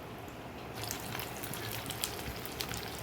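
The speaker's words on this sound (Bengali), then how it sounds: "এটা একটু ভাজা করে নিচ্ছি" Vegetables, including pointed gourd, sizzle and crackle in hot oil in a pan, giving a dense, steady hiss with scattered sharp pops that builds once the vegetables go in. The sound is close and there is no talking.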